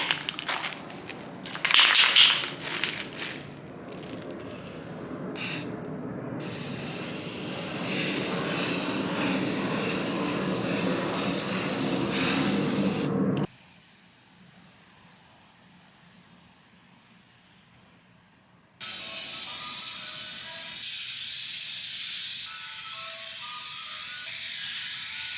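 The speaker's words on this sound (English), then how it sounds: "So this is a triple thick glaze and it's high gloss. And I'm gonna go ahead and spray one coat for now." Triple thick high-gloss glaze is sprayed from a can onto Halloween gingerbread porch decor, a long loud hissing spray, then a pause of a few seconds, then another steady hiss, with rattling sounds at the start.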